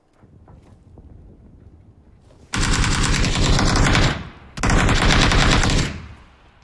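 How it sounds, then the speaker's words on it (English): Automatic gunfire in a tactical shooter video game hits a wall in two sustained rapid bursts with a short gap between them. The shots are loud and dense against faint background game noise. "Ah, you're shooting the wall."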